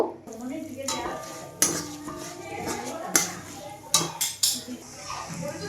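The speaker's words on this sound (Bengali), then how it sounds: "গ্যাসে কড়াই বসিয়ে আমরা রিফাইন্ড অয়েল দিয়ে দিয়েছি এতে আমরা মুগ ডালটা ভেজে নেব" Stirring moong dal frying in refined oil in a pan, with metal scrapes and clinks over a soft sizzle, some sharp knocks of the utensil against the pot, with a voice murmuring faintly.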